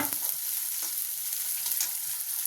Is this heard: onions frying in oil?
yes